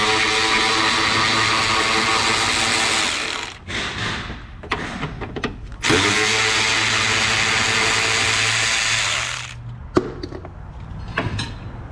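A power tool spins out two 10mm bolts on a fuel filter assembly of a Saturn SL, two loud close whirring bursts of about three seconds each separated by clanks and rattling handling noise.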